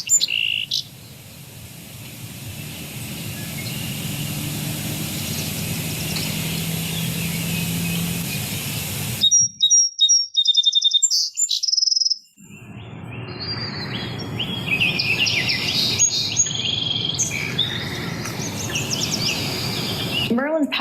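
Recorded birdsong played back through the Merlin bird-identification app: a steady stretch of chirps over low background rumble, a brief break of sharp high whistles, a short silence, then more layered bird calls and tweets resuming.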